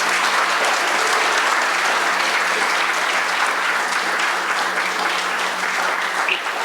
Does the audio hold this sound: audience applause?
yes